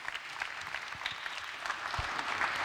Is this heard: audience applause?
yes